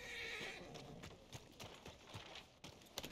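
A horse arriving in the video game Red Dead Redemption 2, its hooves clip-clopping in a steady trotting rhythm close by, with a short whinny at the start.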